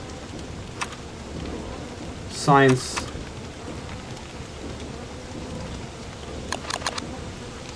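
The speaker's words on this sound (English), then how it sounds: "Oh no, I do not need lightning right now!" Thunderstorm in Don't Starve: steady rain hiss with a single loud crackling thunder burst near the start, then a few sharp distant crackles later, with a brief spoken word.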